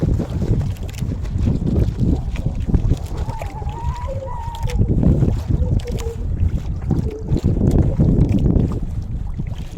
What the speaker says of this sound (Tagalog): Malakas na po ang hangin guys.